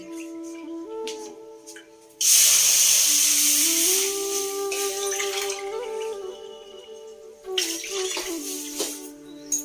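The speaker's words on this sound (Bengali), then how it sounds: "জলটা আমার ফুটে গেছে" Water heats in a wok toward a boil, with a sudden loud hissing rush that settles into steady bubbling and steam, over a faint tonal hum, and no voices.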